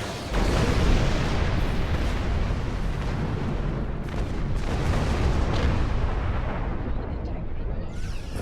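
Tri-cobalt torpedoes fire and detonate in Star Trek Online space combat, a loud sustained roar of explosions and rumbling blasts filling the whole stretch, with no gaps.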